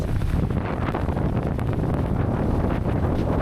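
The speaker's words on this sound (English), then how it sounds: "it's a little bit windy" Strong wind buffets the microphone aboard a sailboat in Sweden in a continuous rough roar, gusting without pause and drowning out any other sound.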